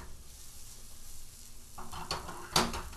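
Green onion and mushrooms stirred in a hot pan for a scramble, sizzling steadily, then louder scraping and utensil clatter against the pan from about halfway, with one sharp metallic knock near the end.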